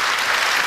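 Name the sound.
studio audience applause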